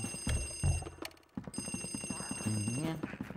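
A telephone in a haunted mansion in the video game Luigi's Mansion rings in rapid, rattling bursts, faint and partly masked under game sounds and a low musical backing.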